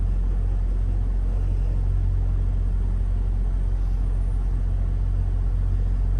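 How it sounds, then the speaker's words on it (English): A brand new yellow Peterbilt 579 truck's engine rumbles at a steady low idle, a constant deep drone with no revving and no voices. "we got a brand new Peterbilt 579 right here"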